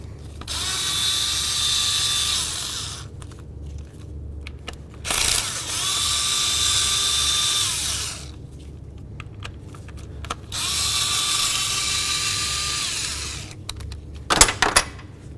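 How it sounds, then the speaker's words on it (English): Ratcheting and power-tool work on a 1998-2002 Honda Accord engine while the ignition coils come off, three long steady whirring bursts separated by short clicks and clunks, ending in a few sharp knocks. "The next thing we're going to do is remove all of our ignition coils."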